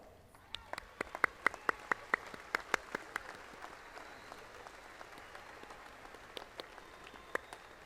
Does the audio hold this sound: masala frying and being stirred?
no